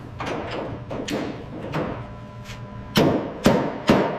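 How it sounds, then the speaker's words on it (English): Metallic hammer blows ring out at an uneven working rhythm, with three louder, sharper strikes near the end, as a hammer reshapes body metal on a Plymouth Barracuda under restoration. "Reshaping the metal. Listen to the rhythm of the hammer."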